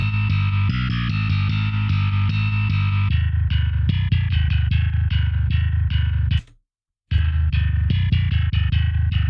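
Bass guitar played an octave up through the Circvit Bass plugin, a distorted, chorus-thickened tone in quick rhythmic plucked notes, loud and alone, with one brief dropout near the end.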